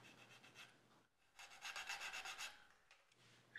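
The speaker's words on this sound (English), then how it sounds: "I'll take a small file and run it around the edge to get rid of that burr." A small metal file rasps around the beveled edge of a guitar fret to remove a burr, close and steady, with bursts of rhythmic strokes after a brief pause.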